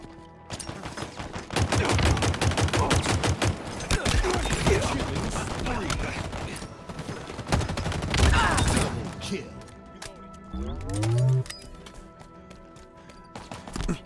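Rapid bursts of Halo Infinite gunfire crackle loud and close, with dense repeated shots and brief pauses, followed by a few in-game effects toward the end; game voice lines occasionally sound underneath.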